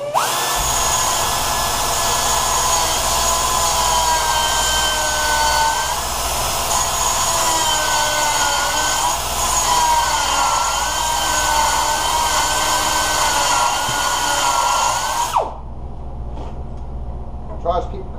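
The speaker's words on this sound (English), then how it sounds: "Now try to keep the cutter in the way the tube's going." Power cutter grinding a steel tube for a Piper PA14 Cub fuselage, a loud continuous high-pitched whine with shifting tone that stops abruptly near the end, leaving quieter shop noise.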